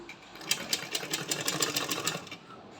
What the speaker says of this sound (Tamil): பெடல் மிஷினில் தான் அடித்து காட்டுறேன்